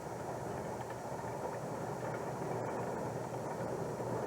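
A string of Santa Fe Warbonnet diesel locomotives, led by a GE Dash 8-40CW, rolls past as a steady, distant rumble and rail roar, faint and continuous with no talking.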